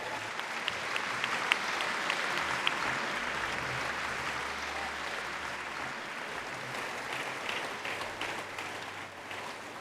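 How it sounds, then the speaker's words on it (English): Steady audience applause fills a hall at an Ellis Island Medals of Honor ceremony, a dense, even wash of many hands clapping that holds for about ten seconds with no talking over it. "Let's give a round of applause."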